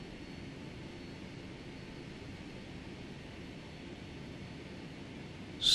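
A Boeing 757 in a flight simulator idles while taxiing, giving a faint, steady jet-engine hiss and rumble that holds evenly throughout with no voices.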